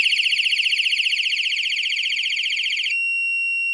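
Electronic bicycle horn blaring a loud, fast warbling alarm tone that then switches abruptly to a steady single beep, close and alone.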